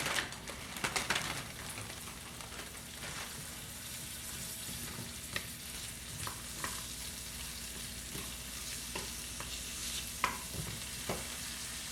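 Asparagus sizzles steadily in a hot pan at home while it is stirred, with scraping and clinking stir strokes breaking through the continuous frying hiss, most busily in the first few seconds.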